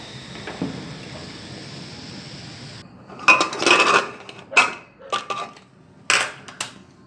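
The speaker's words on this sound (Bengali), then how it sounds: "এবার আমি প্রেশারটা খুলে নেবো।" A pressure cooker holding chickpea curry is opened after five whistles: a short faint hiss, then a run of sharp metallic clanks and scrapes as the steel lid is handled, close by and in uneven bursts.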